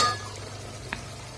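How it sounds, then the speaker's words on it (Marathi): Tomato being stirred into a sizzling masala for saoji chicken gravy, a soft steady frying hiss with a single brief scrape of the spoon near the middle. "1 ते 2 मिनिट टोमॅटो व्यवस्थित शिजवून घेते, छान असं फिरून"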